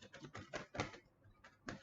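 Tarot cards shuffled by hand in repeated quick riffling bursts, loud and close with brief pauses, no talk.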